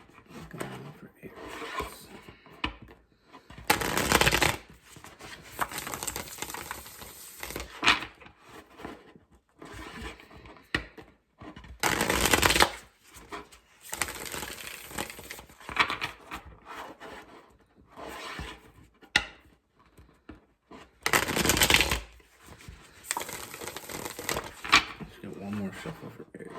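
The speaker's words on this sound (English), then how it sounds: "One more shuffle for Aries." Tarot cards are shuffled by hand in a few brisk, rustling bursts spread across the stretch, set between stretches of a person talking nearby.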